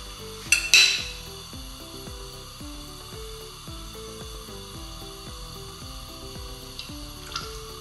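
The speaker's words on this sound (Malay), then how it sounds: "So kita nak goreng pula." Vegetable spring rolls sizzle softly in hot oil in a pan, with a couple of brief metallic clinks from utensils near the start.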